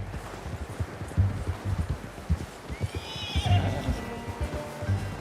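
A horse in Red Dead Redemption II on PS4 whinnies and snorts over clip-clopping hooves, the hoofbeats close and irregular, with a faint rustle underneath.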